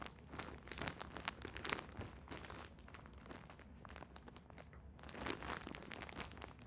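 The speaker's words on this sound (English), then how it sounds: "Sorry about the crinkle noise." Plastic packaging crinkles and crunches near and fairly loud while yarn is unboxed, in irregular bursts of rustling over steady handling noise, with no talk.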